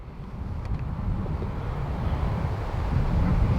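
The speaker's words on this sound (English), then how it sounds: "it's quite windy. You might hear it on the audio." Steady wind buffets the microphone on a golf course, a low continuous rumble that builds slightly toward the end, with no voices.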